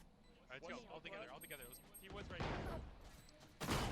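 Shotgun blasts from the video game Valorant come as a few loud, broad bursts in the second half, mixed with game sounds and someone talking over them.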